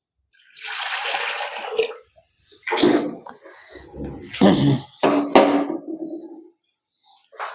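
Leftover water is tipped out of an opened part of a Pureit household water filter during a kit change, giving several close, loud bursts of splashing and pouring separated by short gaps.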